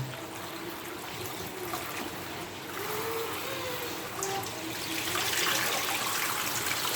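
Taro corms being rinsed by hand under running tap water, a steady close trickle and splash that continues throughout with no talking.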